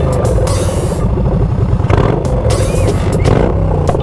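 A motorcycle engine revs loudly and steadily up close, with wind buffeting over the bike's custom fairing and clattering noise on top, no speech.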